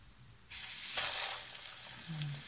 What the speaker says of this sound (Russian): Да, они прилипают, не пригорают, жарятся классно.